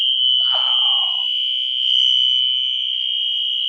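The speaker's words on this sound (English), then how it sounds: "That is a fire alarm." A fire alarm rings through a stadium building during a 1979 football broadcast, a loud, steady, piercing electronic tone that runs continuously, with faint other sounds briefly beneath it.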